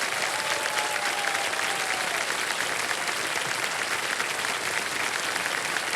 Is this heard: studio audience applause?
yes